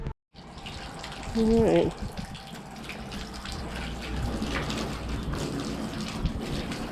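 Water running steadily from a tap as it fills a galvanized stock tank pool, with a continuous broadband rush throughout; someone speaks briefly near the start.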